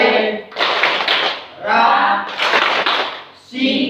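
Rhythmic clapping from a school class performing a literacy clap chant, in bursts of loud group claps separated by short pauses, with children's voices chanting along.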